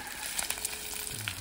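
Chicken fries in a pan and is stirred, giving a steady close sizzle with light scraping knocks from the stirring over about a second and a half.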